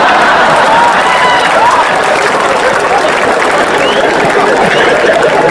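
Dense, loud applause from an audience at a Hindi comic poetry recital, a steady wash of many hands clapping together for several seconds with crowd murmur underneath.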